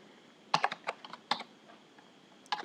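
Bursts of typing on a computer keyboard while entering a sum formula in an Excel spreadsheet: a quick cluster of keystrokes, a single tap, then another short flurry, fairly close and clear over a quiet background with no talk.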